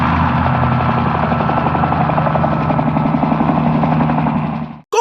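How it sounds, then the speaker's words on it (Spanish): Continuous chopping drone of helicopter rotor blades, loud and close, with a rapid steady pulse, cutting off abruptly at the end. "el intrépido volador, el helicóptero"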